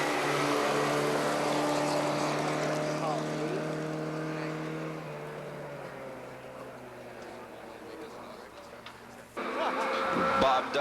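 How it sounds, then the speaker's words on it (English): A Toyota pickup rally car crewed by Richard Campbell and John MacArthur passes at the 1989 Rally of the Tall Pines, its engine note loud at first, then fading into the distance while a voice talks over it. "the Toyota pickup of Richard Campbell and John MacArthur"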